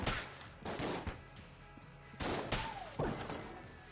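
Shotgun blasts in the video game Enter the Gungeon, several sharp booming shots in a loose rapid series, with brief descending whistling effects near the end.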